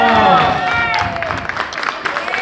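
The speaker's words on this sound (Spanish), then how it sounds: "Un aplauso para estos grosos." An audience bursts into applause and cheering, clapping mixed with raised voices and a tonal, singing-like voice sliding over it, fairly loud and close throughout.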